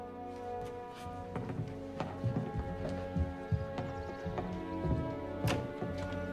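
A horse's hooves clip-clop in a steady, moderately close rhythm of sharp taps along a town street, set against a quiet ambient backdrop.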